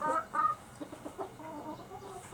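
A rooster and hen packed together in a box cluck in short, nervous bursts at close range, louder at first, then continuing in softer intermittent clucks.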